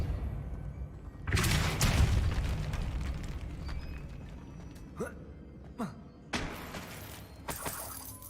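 A Depulso force spell blasts in the Hogwarts Legacy video game: a heavy, booming burst rolls out and decays, followed by several shorter, sharper pops and whooshes toward the end.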